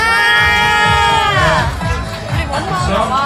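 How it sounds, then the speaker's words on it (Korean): A crowd at a team game event cheers and whoops for the team leaders, with loud overlapping voices and shouts rising and falling throughout, no distinct clapping standing out. "각 팀의 팀장님들한테 박수 한번 보내주세요"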